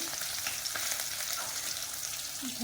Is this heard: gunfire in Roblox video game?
no